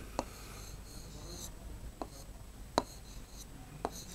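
Handwriting a word on a surface during a school Urdu lesson: a few sparse, quiet scratching strokes spaced out over a soft background hiss, with no voices.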